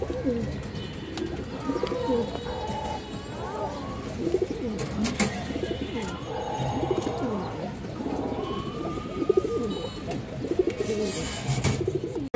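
Pigeons, including a black Mussoldom male, coo steadily in low, rolling bursts, close by and continuous, with occasional chirps and faint background noise.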